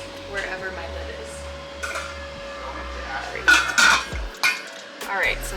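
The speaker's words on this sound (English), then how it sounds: "And put the lid on top, wherever my lid is." Metal pot lid clattering onto a pot of salted pasta water on a kitchen stove, a few sharp clinks and clanks near the end, with kitchen clatter and a steady background hum.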